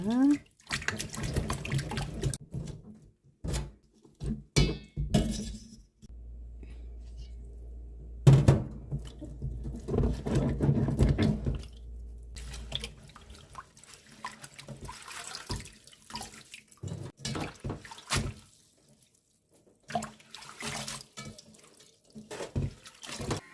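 Stonecrop greens, Chinese chives and white dandelion leaves are washed by hand in a basin of water, with splashing and sloshing bursts that come and go across the clip, broken by quieter gaps and some dripping.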